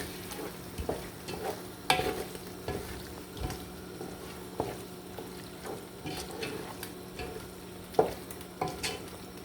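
Aromat seasoning gets stirred into chicken pasta in a pan: rhythmic scraping strokes of a utensil over a low sizzle, close up, with occasional sharper knocks on the pan and no talking.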